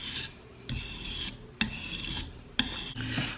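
A knife being sharpened: close, gritty rasping strokes repeated about four times with brief pauses between them, with sharp clicks at the start of some passes and no talk.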